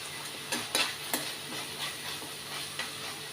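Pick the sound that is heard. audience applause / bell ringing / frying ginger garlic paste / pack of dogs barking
frying ginger garlic paste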